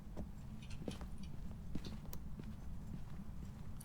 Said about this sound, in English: I hear its footsteps without my flashlight flickering